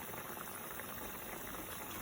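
A pot of water on the stove coming up to a boil for cooking macaroni, a steady close hiss and faint bubbling that runs unbroken throughout with no talk.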